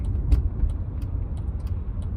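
A manual-swapped Mercedes C55 AMG being driven, heard from inside the cabin as a steady, low engine and road rumble with a couple of slightly louder thumps and no voices.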